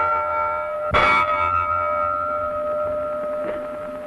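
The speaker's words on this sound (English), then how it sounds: "3 bells." A single ship's bell clangs aboard an ocean liner in an early sound film. It is one bright, resonant strike that rings on over a steady background hum, followed by a fainter tap.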